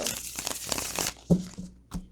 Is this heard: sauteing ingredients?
no